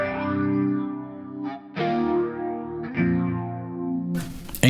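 Guitar chords run through a vibrato effect in Cubase, three sustained chords that waver and bend in pitch, each ringing out before the next, ending with a short noisy burst.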